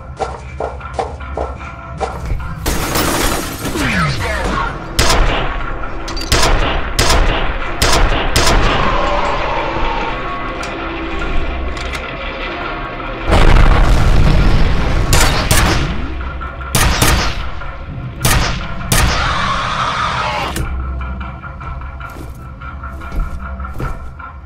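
Dense gunfire from the video game F.E.A.R., loud rapid bursts and single shots cracking through the whole stretch with short pauses between volleys.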